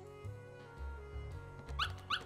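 Puppies in the Kingdom Hearts video game, in Traverse Town, give a few soft whimpers and short yips, quiet and close, with the last two yelps brighter and sharper.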